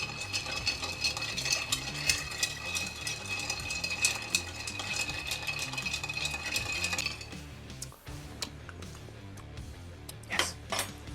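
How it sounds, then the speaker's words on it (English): A Kraken Black Spice Old Fashioned stirred over ice, with cubes clinking and rattling steadily against the glass for about seven seconds, then a few sharper, separate clinks. "So you start stirring and you let that ice dilute"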